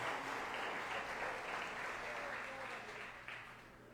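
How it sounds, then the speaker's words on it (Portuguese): A church congregation applauds in a dense, sustained wash of many hands clapping, fairly distant and even, slowly fading toward the end. "Aplauda o nome dEle, amém?"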